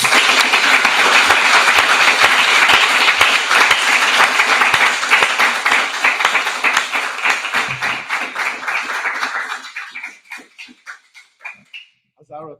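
An audience at a doctoral summer school in conformal geometry applauds the organizers, dense steady clapping that thins into scattered individual claps before fading out.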